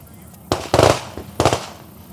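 Two loud gunshot reports at an outdoor shooting range, a single sharp crack followed by a quick double burst and then another lone shot, each with a short ringing tail and light background noise between.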